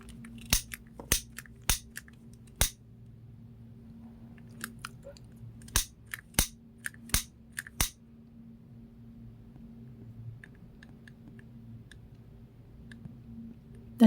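A lighter clicks sharply in short bursts, several quick snaps close by, then a long quiet stretch of faint low hum, then another cluster of clicks, as it melts the ends of plastic safety eyes.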